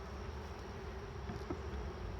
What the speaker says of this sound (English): Lots of bees up there